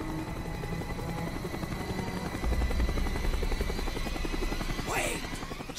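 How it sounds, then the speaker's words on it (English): A helicopter in the video game Call of Duty Black Ops circles overhead with a steady, loud rotor thump that persists throughout, together with game sounds. "The chopper is coming around again."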